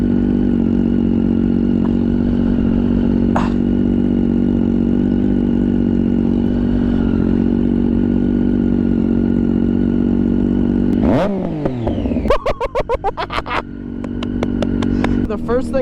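A motorcycle engine runs under throttle while riding, a loud, steady drone that shifts to a rising rev and crackly pops near the end, close and continuous.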